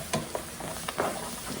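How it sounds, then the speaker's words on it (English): Chopped celery sautés in a pan for vegan gumbo, a soft close sizzle broken by a few brief stirring scrapes. "And I'll go ahead and add the celery. Alright, we're going to saute these in there."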